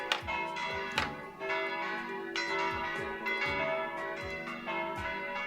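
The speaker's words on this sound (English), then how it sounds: "Can you please turn these bells off?" Church bells ringing loudly and close, with overlapping strikes at an irregular pace and long, shimmering decays that blend into a continuous peal.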